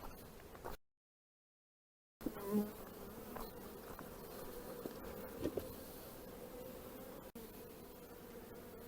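Steady, dense buzzing of honey bees close by at a hive during queen cell introduction, continuous after a brief silent gap near the start, with no voices.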